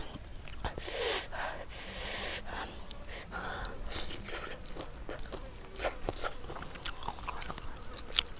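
Someone eats a spicy papaya salad with large cooked shrimp, producing close, irregular crunches, bites and wet chewing with small sniffs, steady and moderately loud with no talking.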